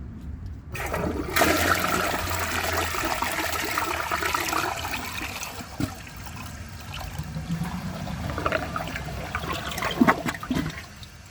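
A 2017 Sterling Windham toilet gives a second flush with the handle held down, a loud rushing swirl of water that runs steadily for about ten seconds and ends with gurgling and draining trickles.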